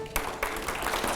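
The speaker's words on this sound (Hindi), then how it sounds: "तालियां देखिए कौन बजा रहा है" Short burst of studio audience applause during a Hindi television talk show, starting abruptly and continuing steadily at moderate loudness for about a second.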